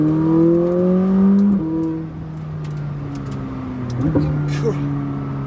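A 2020 McLaren 600LT Spider engine revving hard at full RPM: a loud, steady, high-pitched whine that climbs, drops sharply at a gear change, then pulls again, with talking over it.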